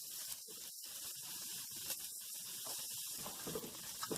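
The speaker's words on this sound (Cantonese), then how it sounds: "熱鑊落油，用中火，首先爆香煮飯嘅薑蓉同埋蒜蓉先" Grated ginger and minced garlic frying in hot oil in a wok over medium heat, cooked for Hainanese chicken rice; a soft, steady sizzling hiss runs throughout, faint and uninterrupted.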